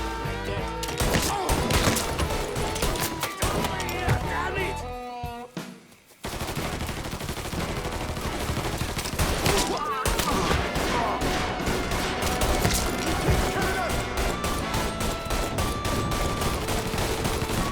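Gunfire in the video game Mafia 3: dense, rapid bursts of automatic fire crackle over a thick, continuous wall of game sound, briefly dropping away before the barrage resumes just as loud.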